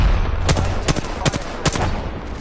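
Gunshots in a video game: four loud shots fired in a quick, fairly even rhythm over steady rumbling background noise, with no talking.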